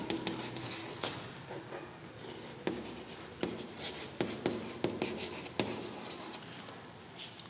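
Pen writing by hand on paper while working a maths problem, with soft scratching strokes and intermittent taps, close up and quiet, broken into short bursts with brief pauses.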